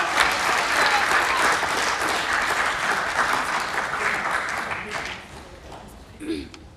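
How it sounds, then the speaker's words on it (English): An audience applauds a student speaker from Whanganui High School at a Pasifika Fusion event, a steady wash of many hands clapping that gradually thins and fades toward the end. "another round of applause for Tamilia Blackburn from Whanganui High School"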